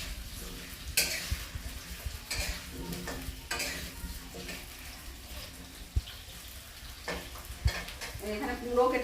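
Potatoes for a spinach vegetable curry fry in a hot pan, sizzling steadily while a utensil stirs and scrapes them with intermittent clatters, and a voice talks now and then.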